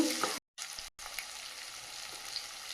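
Chopped onions fry in a pan with a steady, close crackling sizzle, broken by two brief silent gaps.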